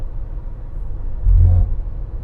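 An MG5 sedan driving on the road, heard from inside as a steady low engine and road rumble that swells briefly louder near the middle before settling back.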